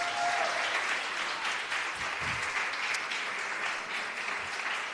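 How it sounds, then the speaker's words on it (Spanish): A church congregation applauds during a Sunday morning service, steady broadband clapping that fills the space evenly for several seconds and tapers slightly toward the end. "¿Por qué no le damos un fuerte aplauso al Señor en esta mañana?"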